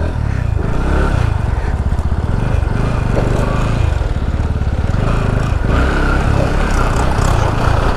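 A Bajaj Pulsar NS200 motorcycle ridden at full power, its engine a loud, steady, continuous roar with wind rush, heard close up from the rider's position, with faint speech buried beneath.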